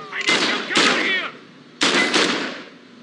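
Gunfire in the video game James Bond 007: Blood Stone: two loud bursts of rapid shots, a short pause, then another heavy burst, close and sharp.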